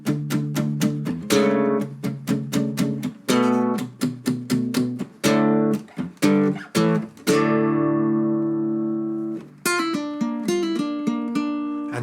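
A section of a song is played on an acoustic guitar, with quick plucked notes and sharp strums that lead into a long ringing chord and then a short turnaround phrase, all close and alone.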